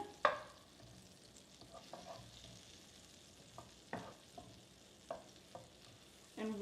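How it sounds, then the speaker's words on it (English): Three tablespoons of butter melt in a hot pan with a faint, steady sizzle, broken by several soft clinks and scrapes of a utensil stirring against the pan, close and quiet, with no talking. "it's probably gonna sizzle at this point because it's pretty hot. And basically 3 tablespoons of butter, and we're going to make sure that this melts nicely in the pan"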